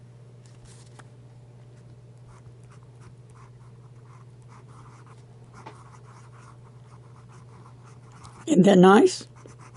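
A broad nib on a Fountain Pen Revolution fountain pen scratches faintly and intermittently across paper in a quiet room. A person speaks briefly near the end.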